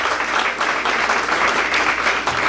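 Audience applauding after a talk, dense sustained clapping from a full room, fairly loud and even throughout with no voices over it.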